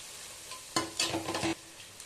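Capsicum being sautéed for chicken fried rice in a hot pan, a few bursts of sizzling and stirring scrapes after a quiet start, close and moderately loud, no talk.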